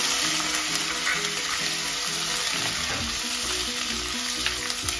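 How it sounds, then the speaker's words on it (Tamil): Onions sautéing with curry leaves in a hot pan, a steady, loud, close sizzle that holds evenly throughout with faint background clatter. "வெங்காயத்தையும் போட்டு வடிவாக வதக்கணும்."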